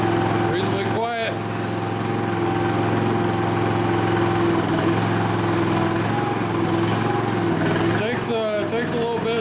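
A Yamaha EF2400is inverter generator runs steadily, close and loud, with a constant mechanical drone; brief speech-like bursts near the start and end ride over the engine noise.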